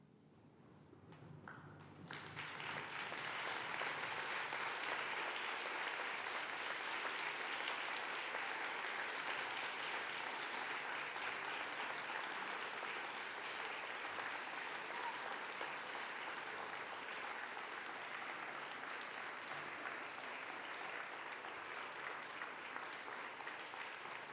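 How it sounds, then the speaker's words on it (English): A large ceremony crowd bursts into a thunderous round of applause that starts suddenly and holds steady and dense for over twenty seconds, heard from some distance. "give them a thunderous round of applause"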